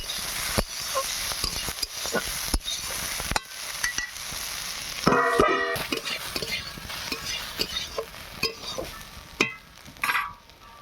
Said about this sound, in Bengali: উচ্ছে একটু হালকা করে ভেজে নিয়েছিলাম, আর একটু দু চারবার করে নাড়াচাড়া করে নেব।